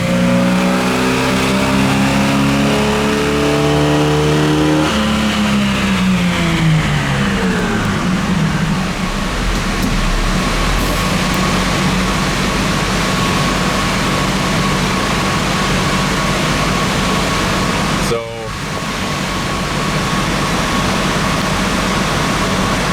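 A 1968 Camaro with an inline-six engine, likely a 230, and straight-through mufflers revs on a dyno, climbing to a loud sustained roar near 4,500 rpm with a brief dip late on.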